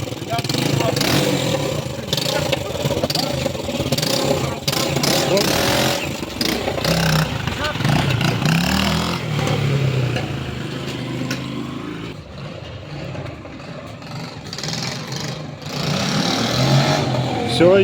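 A homemade IZh Enduro motorcycle engine runs and revs on a test ride, its loud uneven roar continuing throughout while people talk and call out over it.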